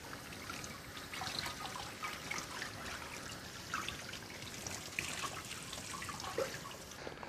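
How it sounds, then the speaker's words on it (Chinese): Tap water runs and trickles steadily while raw pork for sausage-making is rinsed, a faint, close splashing with small irregular drips and sloshes. "买回来的猪肉先给它清洗一下。"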